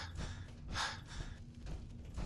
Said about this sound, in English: he's gonna do a lot of heavy breathing because